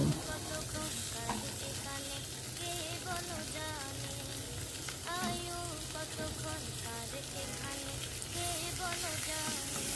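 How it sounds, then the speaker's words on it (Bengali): Onions and tomatoes fry in mustard oil in a home kitchen, a steady close sizzle with occasional stirring clinks and faint birdsong behind it. "প্রথমেই সরিষার তেলে একটু পেঁয়াজ টমেটোগুলো ভালো করে ভেজে নিচ্ছি"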